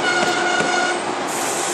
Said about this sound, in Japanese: 折り返し21時5分の通過列車の一ノ関行きが到着いたします。